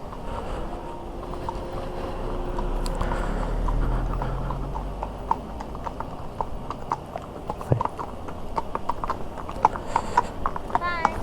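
Horses clip-clopping along a road, a run of sharp, distinct hoof strikes in uneven rhythm over a low motorcycle engine rumble and light wind, with a voice talking at times.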